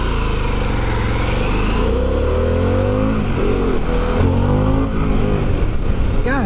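A Harley-Davidson Pan America motorcycle engine revs and accelerates loudly and close, its pitch climbing and dropping through repeated gear changes in a continuous roar.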